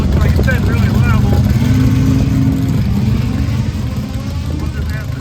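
The Belvedere race car heads out on its first test run, its engine droning loud and steady with a rising whine. A person talks over the engine noise.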